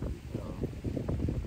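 Strong wind buffets the microphone in a steady low roar with gusty surges during heavy rain, filling the whole stretch without letup.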